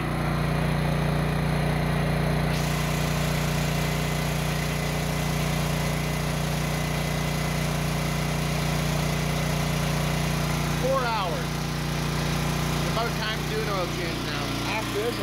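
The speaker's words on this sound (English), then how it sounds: "here we have the generator working real hard" A 6000 W generator under heavy load drones loudly and continuously for the whole stretch with a strong steady hum, and a voice talks over it near the end.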